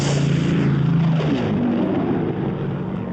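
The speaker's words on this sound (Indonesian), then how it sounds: "mereka mendengar suara pesawat di langit" A Japanese propeller airplane circles overhead, its engine droning loudly and steadily with a slowly shifting pitch as it passes, heard alone without talk.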